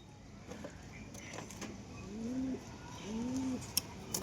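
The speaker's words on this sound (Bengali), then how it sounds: "এটা আমার বাড়ির কবুতর, অনেকেই চিনে" Pigeons at a home loft give soft, low coos in two rounded phrases, close and fairly quiet over faint background noise.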